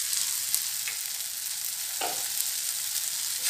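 Tomatoes cook in a pan for matar paneer, giving off a steady, soft sizzle with a faint stir or scrape partway through and no talking.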